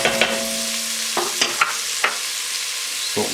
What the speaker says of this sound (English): And we're just going to saute this until it's fragrant and that onion gets translucent in there.